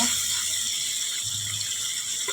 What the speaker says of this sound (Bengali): জল দিয়ে দিলাম আমি মাছের ঝোলটা একটু পাতলাই করব